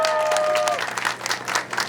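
Young mothers in a crowd at a political campaign rally cheer and applaud, dense clapping with a brief whistle-like tone at the start, lively and close.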